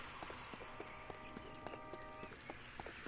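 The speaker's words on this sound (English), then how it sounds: "look, a horse." Horse hooves clip-clop across a street in LA Noire, a quick run of sharp, fairly quiet knocks over a busy city ambience with a thin tonal hum and no talking.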